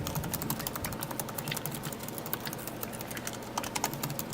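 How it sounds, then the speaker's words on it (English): Rapid, continuous typing on the backlit chiclet keyboard of an Apple MacBook Pro 13-inch with Retina display, close and crisp, with light clicking keystrokes in an irregular rhythm. "You have a chiclet style backlit keyboard, which is very responsive."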